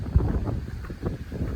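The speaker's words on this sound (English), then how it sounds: "Nice and windy." Blustery wind on a farm rumbles and buffets the microphone in low, uneven gusts, with no voices present.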